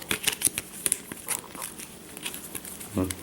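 Playing cards are riffled and shuffled up close, a run of quick crisp flutters and slaps, ending in a short softer riffle.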